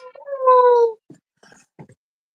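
A dog gives a clear, high, drawn-out whine near the start, then a few short, soft whimpers trail off in otherwise quiet surroundings.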